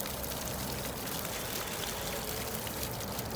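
Water from an OASE Quintet fountain splashes and patters continuously, a steady rushing spray, fairly close and even throughout.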